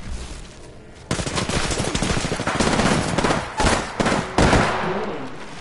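Rapid automatic gunfire in the shooter game Apex Legends, loud sustained bursts rattling near and continuous, with a few sharper separate shots toward the end and no speech.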